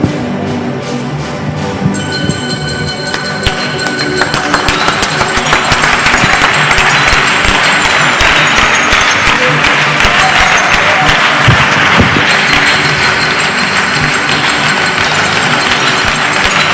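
Audience applause fills a hall at a student science congress, starting with scattered claps and swelling into sustained, dense clapping from a large crowd that carries on steadily to the end.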